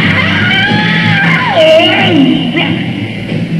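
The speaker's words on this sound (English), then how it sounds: "That was a drunk scream." A singer's drunken scream on a live recording, a loud, strained howl that bends and wavers in pitch for several seconds over a muffled band and crowd.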